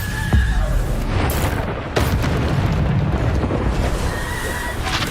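A Bombarda explosion spell in the video game Hogwarts Legacy, booming blasts with sharp cracks among a dense, loud roar of combat effects and a whinnying creature, continuing steadily throughout.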